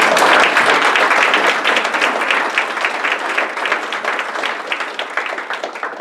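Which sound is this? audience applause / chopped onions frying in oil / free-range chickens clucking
audience applause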